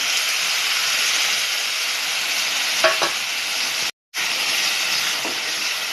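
Ground spice paste for Satara-style udad dal sautéing in a hot pan, a steady close hiss and sizzle with a couple of brief scraping stirs and a sudden momentary cut to silence; no voices.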